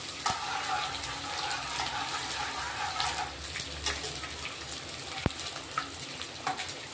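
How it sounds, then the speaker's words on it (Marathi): Edible gum frying in hot ghee, a dense, steady sizzle and crackle close up with one sharp tap near the end, no voices. "डिंक तळून घेतोय आपण आता। तूप गरम झालेलं आहे।"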